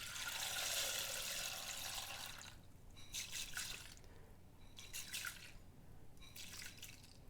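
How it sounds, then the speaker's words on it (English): Dry red lentils poured from a bag into a cooking pot, a soft continuous rushing patter that comes in short bursts, fairly quiet and close. "we're going to pop in 230 grams of red lentils"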